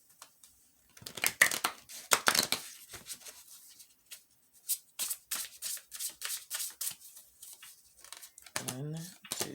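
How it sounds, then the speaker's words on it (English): Oracle tarot cards being shuffled by hand, a long run of crisp riffling and papery slaps in quick irregular bursts with short pauses, close and fairly loud, with a brief voice near the end. "Let's shuffle a little bit more."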